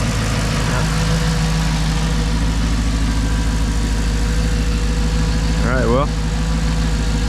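A manual Mercedes C55 AMG engine idles steadily as it warms up in cold weather, a loud, even low drone close by, while someone speaks briefly over it.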